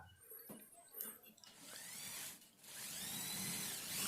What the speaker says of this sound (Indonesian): ini seperti yang teman-teman lihat proses pengeboran sekitar 4 titik ya